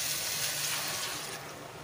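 Water pours steadily into a cooking pot for ginataang kalabasa, a close, even splashing stream lasting under two seconds with no talk.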